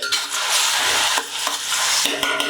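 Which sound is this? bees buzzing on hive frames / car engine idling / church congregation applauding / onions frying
onions frying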